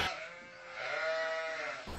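A single drawn-out sheep bleat from the Animal Jam video game, fairly quiet and close, with a wavering tone and no talking over it.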